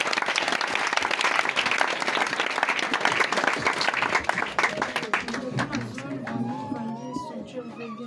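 A church congregation bursting into loud, sustained applause with cheering voices mixed in, dense and close, then thinning out into scattered claps as talking and a sung or drawn-out voice take over.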